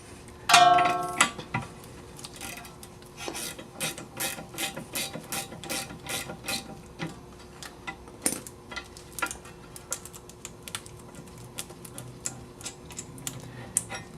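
Ratchet wrench turning out the rear brake caliper bolts on an Audi A4, with rapid repeated clicking in short runs and pauses, plus a few metallic clinks, close and moderately loud without talk.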